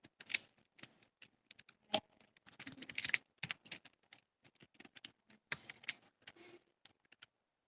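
Keys on a computer keyboard clatter in irregular bursts of quick taps with short pauses between, close and fairly quiet, while data is entered into an MS Excel sheet.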